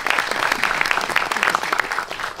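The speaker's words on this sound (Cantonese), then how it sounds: "大家請給個掌聲" An indoor audience at a tribute event claps for an introduced guest, producing dense, continuous applause from many hands that stays loud and fades slightly at the end.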